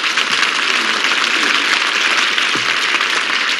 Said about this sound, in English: you don't have to give us that polite applause